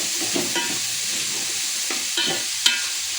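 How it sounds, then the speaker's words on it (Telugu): Ivy gourd pieces frying in a little oil with cumin, ginger garlic paste and turmeric, a steady close sizzle with a few stirring scrapes and clinks of the spoon, no talking. "నూనె పోసి కొంచెం జీలకర్ర వేసి అల్లం వెల్లిగడ్డ వేసి దొండకాయ ముక్కలు వేసి పసుపు వేసిన."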